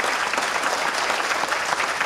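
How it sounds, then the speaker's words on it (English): A crowd at a manufacturing facility ribbon-cutting ceremony gives a steady round of applause, dense and continuous throughout with no voices over it. "Let's all give Mark a round of applause for him."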